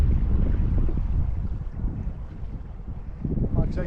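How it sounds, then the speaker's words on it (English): Gusty wind buffets the microphone with low rumbling bursts, steady and loud throughout, with a faint watery background from a small river. "Like I say, it is windy."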